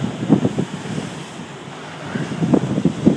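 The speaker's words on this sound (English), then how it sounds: "the ocean's definitely picking up pace." Ocean waves wash against a jagged, rocky coastline in a steady outdoor roar with gusting wind noise on the microphone and some irregular low thumps, with no talking.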